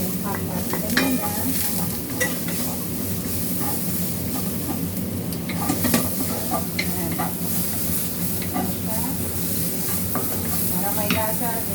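Ham fries in oil in a pan with a loud, continuous sizzle and crackle, broken by scraping and stirring clatter from close by, with no talking.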